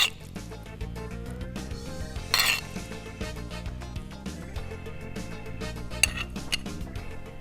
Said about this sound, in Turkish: Üzerine tabii ki bol miktarda nohutlu karışımdan ekliyorum.